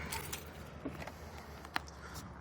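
A set of freshly cut car keys jangles in short, light metallic rattles near a vehicle, faint and brief with small clinks and one sharper tap.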